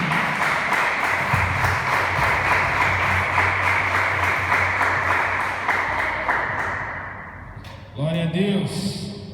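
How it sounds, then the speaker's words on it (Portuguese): A church congregation applauds steadily for several seconds, a dense bed of clapping that tapers off, then a voice begins speaking at the end. "aplauda o Senhor mais uma vez"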